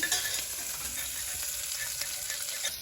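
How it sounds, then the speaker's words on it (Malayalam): Four green chillies sizzle in hot oil in a pan while being stirred for dal, a steady close frying hiss with light scraping of the spoon, no talk. "അതിലേക്ക് 4 പച്ചമുളകും ചേർത്ത് ഒന്ന് ചെറിയൊരു ബ്രൗൺ ആവുന്നത് വരെ ഒന്ന് ഇളക്കിക്കൊണ്ടിരിക്കുക."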